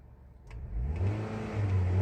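A Hyundai car engine rising from idle into a rev as the accelerator is pressed, a close, steady mid-pitched engine drone swelling in loudness and holding high, with a brief knock at the start.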